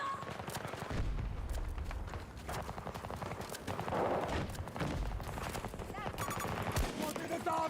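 Gunfire in the shooter Battlefield 2042, with dense, continuous battlefield shots and bursts layered over constant combat noise, while voices talk over the action.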